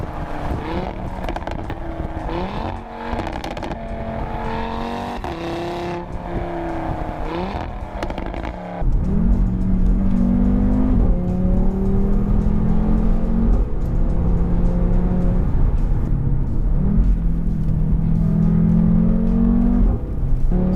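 A 2005 Audi RS3 with a transverse turbocharged five-cylinder engine accelerates hard with its exhaust valves open, a loud rising snarling drone that climbs through gears on a slippery road, the pitch stepping up and dropping with each shift.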